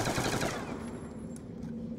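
Rapid automatic gunfire from a gun in the video game Call of Duty Black Ops 2 zombies mode, a dense continuous burst that is loudest at the start and then trails off into a quieter ringing tail.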